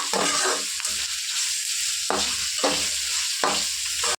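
Ginger paste, vegetables and curry leaves frying together in a pan, a loud close sizzle broken by rhythmic stirring strokes about once a second, no talking.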